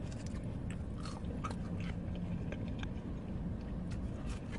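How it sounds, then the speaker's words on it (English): Close, steady chewing and munching of food by a woman, with soft crunchy bites repeating through the whole stretch and no talking. "her munching sounds would be like twice as"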